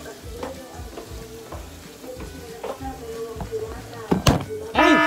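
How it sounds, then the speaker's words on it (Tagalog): Squid adobo sizzles and fries in a pan as it is sautéed. A steady hiss runs throughout, with stirring and knocking of a utensil against the pan. Someone talks over the cooking near the end. "Ginigisa ko na."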